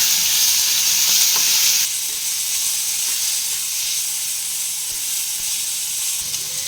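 A paste of garlic, ginger and chili fries in hot oil with a loud, steady sizzling hiss that eases slightly after a couple of seconds and continues close up without speech.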